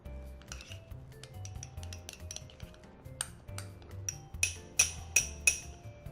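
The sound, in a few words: stirring black pepper and rub ingredients together in a bowl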